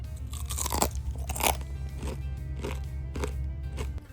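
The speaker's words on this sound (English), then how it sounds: "I'll come close real quick so you can hear the crunch." Crunching bites into crispy fried catfish coated with cayenne, several sharp crackling bites followed by close, moist chewing, loud and near with no talk.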